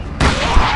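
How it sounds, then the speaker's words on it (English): A Tommy gun fires in the Call of Cthulhu video game, a sudden loud burst of gunfire that continues as a sustained rattle through the short moment. "Again with the Tommy gun at long range."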